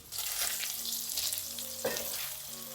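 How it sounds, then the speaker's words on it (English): Plant-based Impossible brand meatballs fry in olive oil, giving a steady, close sizzle with light crackles and a brief louder spatter near the end, and no talking over it. "Then I'm cooking some plant-based meatballs in olive oil."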